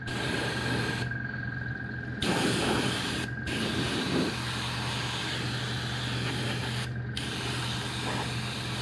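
Airbrush hiss spraying paint onto custom Warhammer 40k terrain, a steady close airy spray broken by several short pauses, with no talking.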